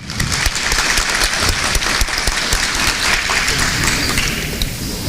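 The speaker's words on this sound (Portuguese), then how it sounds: "Palmas ao casal." An audience in a hall applauds a couple who have just performed music, dense continuous clapping from many hands that stays loud and even throughout, with no voices over it.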